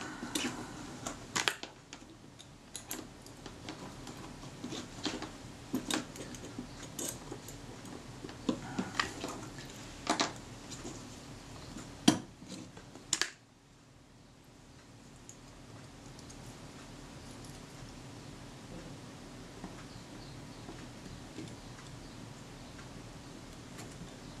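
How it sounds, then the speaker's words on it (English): Metal clicks and scrapes of a spanner wrench having its tips swapped while servicing a Suzuki Optical Press Van 120 lens, with irregular sharp ticks over faint hiss, then quieter background after the work stops. "Let me change the tips on my spanner."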